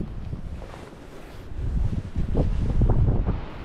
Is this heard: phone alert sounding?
no